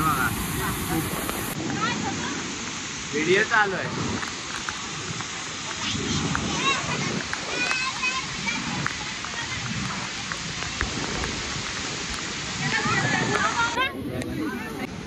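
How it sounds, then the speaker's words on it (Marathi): Constant rushing roar of a waterfall in Sanjay Gandhi National Park, Mumbai, fills the background, broad and steady, while people talk and call out over it. "खाली पाहू शकता केवढा धबधबा छान वाटतं"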